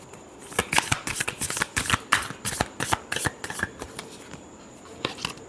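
Tarot cards are riffled and shuffled close by in a rapid flurry of crisp, papery flutters and slaps, loud and rhythmic, with no voice over them.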